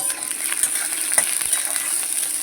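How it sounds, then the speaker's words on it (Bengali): Onions frying in oil in a kadai, a soft continuous sizzle with light stirring clicks, steady and fairly quiet, with no talk. "তো চলো পেঁয়াজটা ভেজে নিই"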